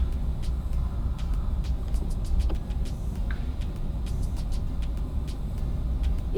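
A car drives on the steep zigzag road of Spur Tree Hill in Manchester, Jamaica, giving a steady low engine and road rumble throughout, with faint clicks and no talk.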